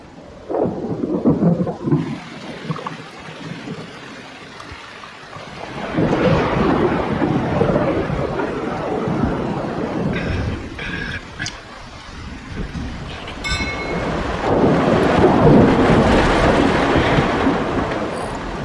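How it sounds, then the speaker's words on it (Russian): Rolling thunder rumbles repeatedly over steady rain, swelling loud in bursts with quieter stretches between, no voices. "Какая гроза."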